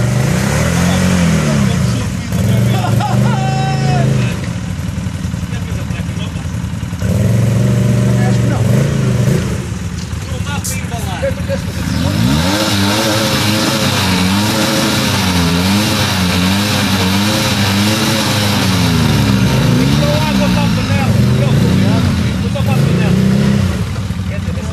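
A Polaris 800 watercraft engine revs repeatedly while warming up, rising and falling in bursts with a sustained high-revving stretch, while people talk nearby.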